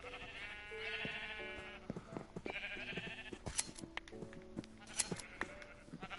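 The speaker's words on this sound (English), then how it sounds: "I've about clipped as many sheep as I'm going to clip right now." Sheep in the Minecraft video game bleat repeatedly, their harmonic cries rising and falling over several seconds, mixed with clicks and short game sound effects, no talking.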